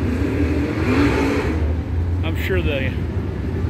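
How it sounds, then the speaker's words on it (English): Dirt track race car engines roar and rev loudly, one sweeping past with a rising then falling whine, while a person speaks briefly over the noise. "the sound of these cars are just awesome"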